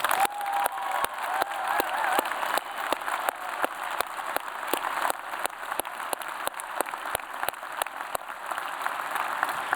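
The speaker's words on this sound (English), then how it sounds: "let's give all of our graduates another big round of applause" A crowd at a Weber State University spring commencement gives the graduates a sustained round of applause, dense and steady, with a few faint voices and sharp claps standing out near the microphone throughout.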